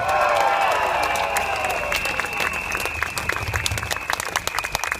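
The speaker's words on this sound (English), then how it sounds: "Big round of applause for our PAP candidates." A crowd at a People's Action Party election rally in Singapore applauds its candidates with dense, sustained clapping and some cheering. A whistle-like tone runs through it, and the clapping stays steady for about five seconds.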